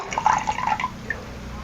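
Soaked urad dal being lifted out of its soaking water by hand, with soft splashing and dripping water in a few close, light bursts that fade into a quiet kitchen hush.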